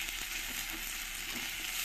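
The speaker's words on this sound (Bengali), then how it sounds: "এবার এর মধ্যে দিয়ে দেবো আদা রসুন পেস্ট।" Onions fried deep red sizzle steadily in hot oil as ginger garlic paste goes into the pan for a spicy eel fish curry, a soft continuous hiss with faint stirring scrapes.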